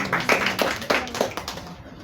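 Scattered, steady claps from an audience at the ETA Awards Kenya 2023 unveiling, sounding as a loose rhythmic patter of hands that fades toward the end.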